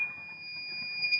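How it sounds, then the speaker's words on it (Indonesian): A smart home system buzzer sounding a rain alert, a steady high-pitched electronic tone held continuously at moderate loudness over a faint low background hum. "Nah, itu lampu hidup dan dia buzzer nyala,"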